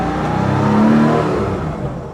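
A 1995 Porsche 911 (993) Carrera RS 3.8 Clubsport engine hums and swells in pitch, revving up briefly before easing off, steady and fairly loud with no talking.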